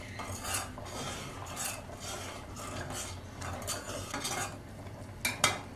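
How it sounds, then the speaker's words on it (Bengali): A spoon stirs milk in a pot as it slowly thickens with an arrowroot slurry, giving a steady scraping, rubbing rasp with brief clinks of metal against the pan, fairly quiet and close, with no talking. "এবার আমি একদিকে চামচটা নাড়তে থাকবো আর এই গোলাটা দিতে থাকবো।"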